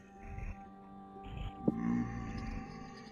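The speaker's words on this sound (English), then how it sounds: "That was the sound of Botorn dying in the pit kiln." In a survival video game, the creature Botorn dies in a pit kiln. A low, roaring, groaning animal cry rises and falls over a faint humming background.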